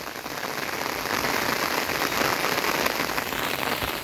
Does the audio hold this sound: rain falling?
yes